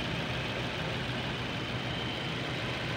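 A Suzuki car engine runs at a steady idle, a continuous low mechanical hum with a dense, unbroken rumble held close and constant throughout, with no voices over it.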